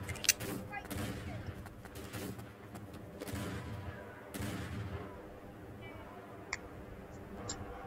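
Gunfire in a wild west video game: scattered, faint shots and sharp cracks crackle at a distance over a low, murky background, with a few isolated pops near the end.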